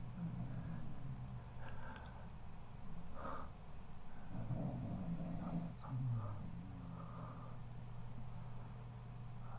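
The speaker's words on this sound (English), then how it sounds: "We have some good snoring dog action today." A sleeping dog snores with repeated snorting, breathy inhalations over a steady low hum, close and moderately loud, with louder bursts near the middle.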